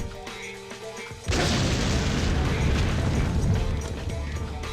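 A loud, sustained boom of an explosion from the Lamento visual novel video game erupts suddenly after a quieter tonal passage and rumbles on steadily, fading slightly toward the end, with no one speaking.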